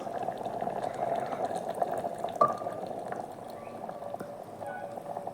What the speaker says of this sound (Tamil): சேர்த்து நல்லா கொதித்து தண்ணியெல்லாம் வற்றி சுண்டி வரட்டும்